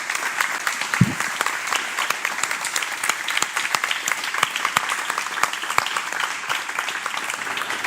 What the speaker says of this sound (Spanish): yo les pido un aplauso para Paz, por favor.